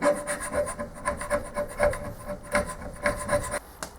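A hand scraper works over a metal part of a rotating head and yoke being fettled, giving a close, dry rasping stroke repeated in a steady rhythm, about eight scrapes in a row.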